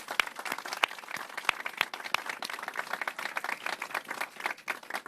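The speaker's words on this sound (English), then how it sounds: "Let's give them a round of applause and thank them." Applause from an audience at a mayor's press event announcing an affordable housing plan, steady dense clapping with a few sharp nearby claps standing out, sustained for several seconds without speech.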